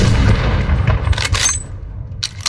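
Gunfire from the video game Phantom Forces comes as a few loud, close cracks and booms over a thick low rumble, trailing off into quieter game noise.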